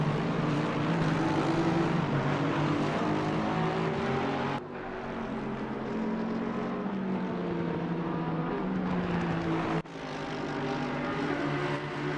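GT3 race cars roar around Monza in a PC racing game, with sustained, loud engine drone and shifting pitch as cars pass, broken by two abrupt cuts in the sound.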